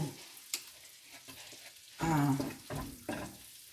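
Garlic, ginger and onion frying in butter in a pan for butter chicken curry, a loud sizzling burst rising midway with stirring scrapes and short hisses after, fairly close.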